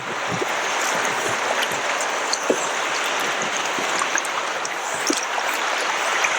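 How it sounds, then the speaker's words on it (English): Small waves wash and lap continuously against a kayak or the shore on the water at Copper Harbor, with a steady close-up hiss of moving water and scattered small splashes. "It's nice waves."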